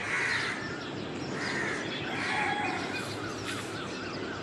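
Crows caw repeatedly in the morning, several harsh calls rising over a steady outdoor background, with other birds chattering faintly at a distance.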